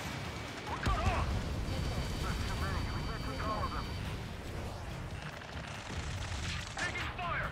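Scattered gunfire and explosions in a chaotic video-game firefight, fairly distant and mixed with shouting voices and battle din.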